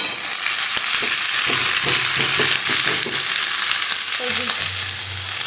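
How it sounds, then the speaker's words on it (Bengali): Cauliflower and potatoes fry in a pan with a loud, dense, continuous sizzle, joined by low background noises and a faint tonal hum toward the end, with no talking. "আর আমি এখন ফুলকপি আলু ভাজবো"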